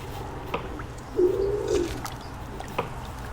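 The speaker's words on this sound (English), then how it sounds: "Bolle's pigeons are the descendants of European wood pigeons that passed through here long ago." A Bolle's pigeon, a forest-dwelling island species, gives a single soft, low coo in the middle of a short stretch of faint outdoor ambience with scattered small clicks.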